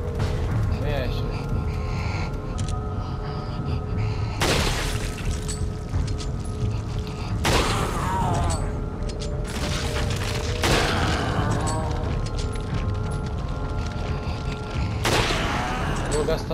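Gunfire in Resident Evil 4: several loud, sharp blasts spaced a few seconds apart, each with a short ringing tail, over a constant rumbling game backdrop, with a person talking throughout.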